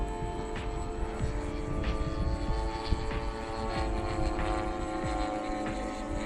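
A Dynam Cessna 188 RC crop duster airplane with a 1500mm wingspan flies overhead, giving a steady motor drone and hum with faint wind buffeting, heard without talk.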